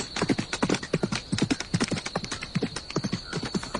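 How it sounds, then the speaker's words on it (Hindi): Steady clip-clop of a horse's hooves as a rider sets out toward the fields at night, even rhythmic hoofbeats close and alone with no talk. "मंत्री जी रात के समय अपने घोड़े पर बैठकर खेतों की तरफ निकल पड़ा"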